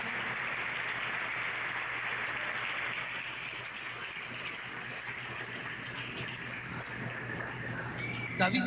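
Sustained applause from a church congregation honoring the King of Kings, a dense steady clatter of many hands filling the space throughout, with a brief louder burst near the end.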